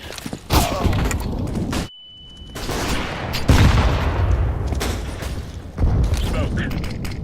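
Loud CS:GO gunfire and a grenade blast fill the clip, with bursts of shots, a brief near-silent gap, then sustained firing and booms, and speech mixed into the action.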